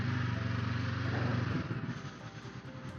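Close Honda NX500 motorcycle engine running with a throbbing rumble that eases off partway through as the bike rolls on, loud at first then quieter.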